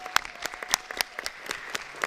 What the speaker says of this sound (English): please give these scholars a thunderous round of applause for representing us around the world.